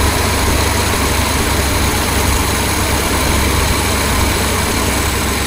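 A 1976 BMW 2002 engine idles steadily at a fairly high idle during carburettor tuning, a loud, continuous low mechanical rumble with no pauses or voices.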